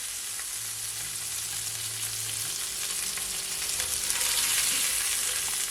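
Shrimp sizzle steadily in garlic butter in a pan, a loud continuous frying hiss with faint stirring, close and without any voices.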